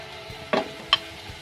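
Carrots and bell peppers cooking briefly in a pan for chicken soup, a soft low sizzle with two quick spoon clinks and stirs.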